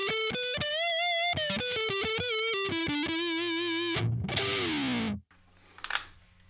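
An electric guitar is played through Donner fuzz, overdrive and distortion pedals on the neck pickup in the upper register, giving a creamy, sustained melodic line of distorted notes that ends abruptly, followed by a brief faint noise.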